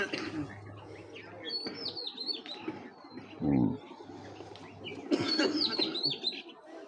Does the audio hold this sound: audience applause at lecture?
no